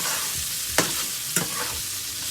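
Garlic butter chicken bites sizzling in a pot, a continuous close frying hiss broken by two distinct scraping stirs of a utensil against the pot.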